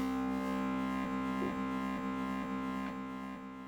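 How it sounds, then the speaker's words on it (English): Fabrik synth plugin plays a sustained, buzzy harmonic tone under a very strong compression effect, with soft rhythmic pulses recurring about every half second, steady and alone before fading slightly. "Compression will sound like this."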